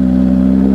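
A BMW S1000RR superbike engine idles and revs loudly up close, a steady deep mechanical drone with strong low harmonics holding even throughout the short moment, no voices over it.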